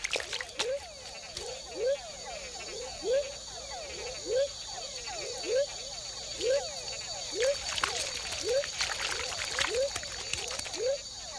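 Tiny frogs calling from shallow pools at the foot of dipteryx trees in the Panama rainforest, a rapid series of short chirping croaks repeating in steady bursts, with insect buzzing and forest ambience behind.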